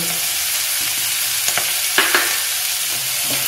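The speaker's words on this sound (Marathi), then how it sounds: "हे चांगलं परतून घ्यायचं" Ghevda beans sauté in a pan with cumin powder, garam masala, onion-garlic masala and crushed peanut, a dense close sizzle with a few light spatula scrapes, continuous and unaccompanied by speech.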